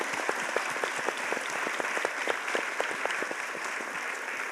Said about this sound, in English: Once more, a big round of applause for our panel and for you all.